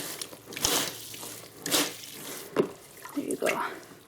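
Water drips and splashes in bursts as a plush toy is squeezed during a wash in a bathtub, with several uneven spurts close by and short pauses between them.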